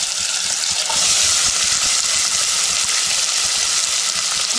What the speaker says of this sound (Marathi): तेल तापलंय बघा। आता ही लसूण टाकायची, लसूण टाकली आहे।